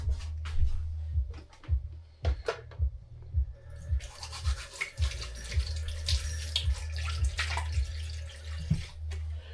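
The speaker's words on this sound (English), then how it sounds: "I've already washed my hand, but I'm going to wash my hand again" Hands are washed under a running tap while preparing fish for frying, water splashing and trickling at close range with intermittent bursts and rubbing, the flow becoming fuller and hissier midway.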